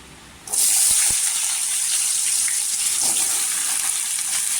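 Washed potato pieces drop into hot oil for a spicy potato sabzi, bursting into a sudden loud, continuous sizzle after a brief quiet moment, with a couple of faint knocks early on, close to the pan.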